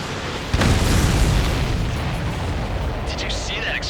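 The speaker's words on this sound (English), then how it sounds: "Did you see that explosion?" A supply ship blows up in the Ace Combat 7 flight game, a sudden loud boom followed by a long rumbling roar that slowly fades, with a voice speaking briefly near the end.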